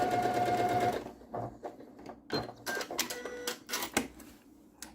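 A sewing machine stitches a quilt seam in one steady close run of rapid whirring for about a second, then stops and restarts in short, uneven bursts.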